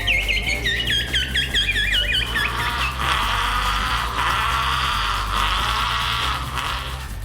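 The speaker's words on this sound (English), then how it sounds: "We spent 3 days recording animals and birds at SeaWorld Orlando and Busch" Birds recorded at SeaWorld Orlando, loud close chirping and warbling calls in quick repeated bursts, then a denser chorus of calls over a constant low hum.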